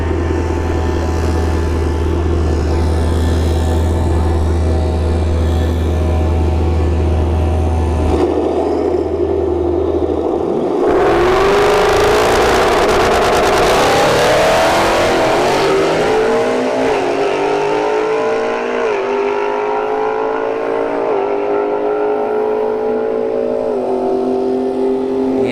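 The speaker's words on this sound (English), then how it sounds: "Turbo S550 versus a Porsche 911 Turbo in the right lane." A turbocharged Ford Mustang S550 and a Porsche 911 Turbo drag race at a motorsports park: a low idle drones, then engines roar loudly at launch and pitch climbs through gear changes before fading into distance.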